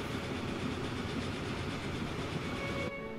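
A train at top speed in the video game Transport Fever 2, a steady dense rumbling roar with rail noise, constant and loud, cutting slightly quieter near the end, with no talking.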